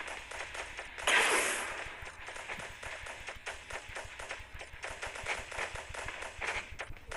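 Rapid bursts of video game gunfire in a robot transformer shooter crackle in quick, repeated volleys, loud and sharp, with one heavier blast early on and a steady rattling rhythm throughout.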